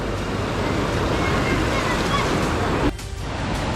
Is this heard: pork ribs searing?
no